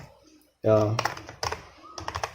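Keys on a computer keyboard tap in quick bursts as an institute name is typed, clicking close and fairly faint while someone speaks over the start.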